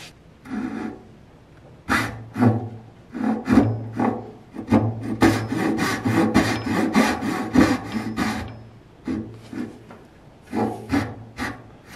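Hand sawing through a piece of wood to cut off a section for a stopped dovetail joint, with rhythmic back-and-forth rasping strokes, close and fairly loud, in bursts separated by brief pauses.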